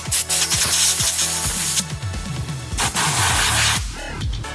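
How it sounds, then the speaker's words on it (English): A blade picks and scrapes trapped RTV sealant out of the dowel holes on a manual gearbox case during prep for an IS300 swap: close, continuous rubbing and scratching with repeated squeaky strokes, no talking. "Some RTV trapped in the dowels, so just trying to get that out. As you can see here, I've just picked at it with a blade"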